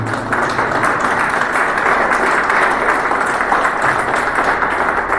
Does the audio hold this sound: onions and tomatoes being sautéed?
no